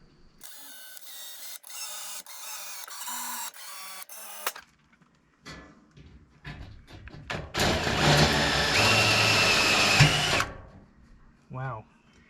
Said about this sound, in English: So you can see how it's just cutting them right out.